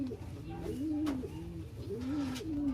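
Racing pigeon in the young bird category cooing up close, repeated soft rolling coos over a steady background murmur.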